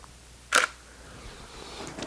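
A single crisp SLR camera shutter click fires once at 1/250 second, f/11, during a wireless flash trigger test, short and clear against a quiet room.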